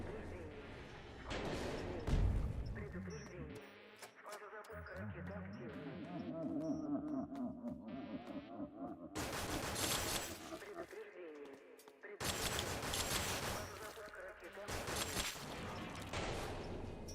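Bursts of gunfire and sharp impacts from the video game Trials Rising, loud cracks and whooshes scattered over game music and effects, with several heavy volleys near the end.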